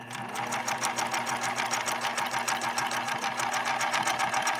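A Pfaff 1222 sewing machine running a detailed stitch, a steady rapid mechanical whir and clatter with even rhythm, close and continuous throughout.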